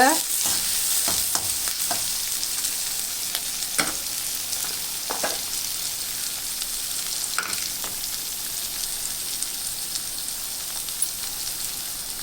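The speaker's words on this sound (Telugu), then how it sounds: "బాగా వేడెక్కాక ఇవి బాగా వేగాలండి." Thinly sliced onion pieces fry in a hot pan with a steady, close crackling sizzle and scattered sharp pops, with no voices.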